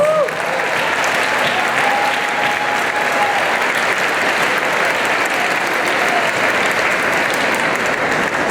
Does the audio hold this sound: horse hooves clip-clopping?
no